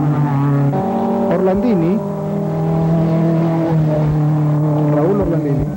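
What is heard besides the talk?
Datsun rally car driving past, Caminos del Inca 1979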